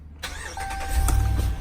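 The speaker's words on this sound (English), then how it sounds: "Let's say you start the truck." A truck engine cranks and catches after a brief silence, settling into a loud, close, rumbling idle within about a second.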